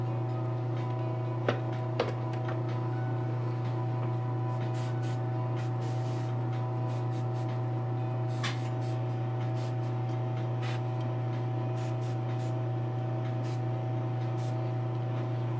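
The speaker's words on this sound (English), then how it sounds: "I'm just spraying real heavy, just getting in shades and messing around with stuff" An airbrush sprays paint onto a custom statue, giving a steady, continuous hiss under a constant compressor-like hum, with a few faint ticks and clicks near the start.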